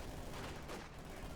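Cannon and small-arms gunfire from a Company of Heroes 2 battle fill a dense, continuous wash of rumbling shots, loud and unbroken with no clear gaps.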